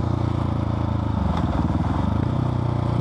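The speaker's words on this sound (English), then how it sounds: "It's super fun to corner with this bike." A Husqvarna 701 motorcycle fitted with an Arrow exhaust growls steadily while cornering, a loud, close, throbbing engine note with wind rush throughout.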